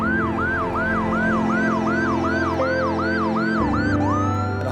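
An ambulance siren wails in a fast, repeating up-and-down sweep, loud and close and continuous throughout, over a low vehicle rumble.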